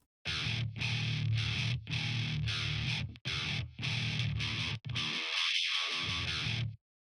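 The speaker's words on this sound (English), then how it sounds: "So when you do the distortion by itself," Heavily distorted electric guitar riff, loud and sustained, played in chopped phrases with brief gaps, ending on a long ringing chord.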